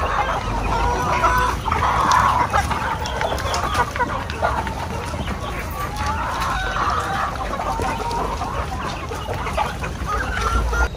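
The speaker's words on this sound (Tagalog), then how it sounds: "So ito katambayan no, yung mga manok na nakuha natin kay Roswin." Chickens clucking and a rooster crowing nearby, with scattered calls over a steady farmyard background.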